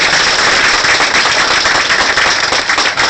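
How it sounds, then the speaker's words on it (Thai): Loud, dense clapping from a crowd at a Thai company's 11th anniversary celebration, a continuous close burst of many hands with no voices over it. "ขอเสียงปรบมือให้กับเดียวไลฟ์ของเราด้วย"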